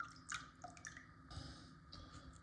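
Water drips and trickles off a Lidl Parkside sharpening stone lifted out of its water bath, a few faint, close drops and small splashes in a quiet room.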